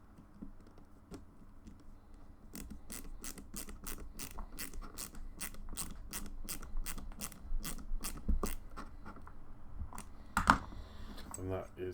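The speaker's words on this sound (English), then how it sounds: "And then we're also going to secure that in with another 8M screw." Small 8M screw driven into a plastic model Batmobile Tumbler, giving a steady run of close, crisp ratcheting clicks from a hand screwdriver over several seconds before a final sharper knock.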